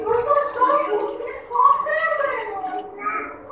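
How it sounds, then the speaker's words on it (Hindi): About a mug of water is poured into a cooking pot in a home kitchen, giving a gurgling, bubbling splash with shifting pitch that fills most of the moment before fading. "अब इसमें मैं तकरीबन 1 मग पानी डाल लूँगी।"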